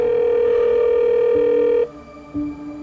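A telephone call from a mother to a victim's home goes unanswered, a steady electronic tone holding for nearly two seconds, then cutting off and briefly resuming, loud and alone with no voices.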